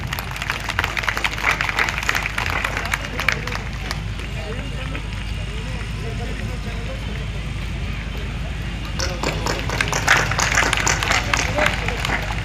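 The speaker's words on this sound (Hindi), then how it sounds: "आप सब लोग इन्हें जोरदार तालियों से नवाजें।" Loud audience applause at an award ceremony for a police superintendent on Eid Milad in Bijapur, dense clapping that runs throughout and swells near the end, with a voice talking over part of it.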